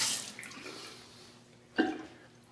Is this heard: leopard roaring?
no